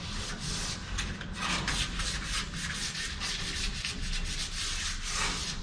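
Hand sanding on the body of a Biscayne car makes rapid back-and-forth rasping strokes in a steady rhythm, close and fairly loud, with no voices over it.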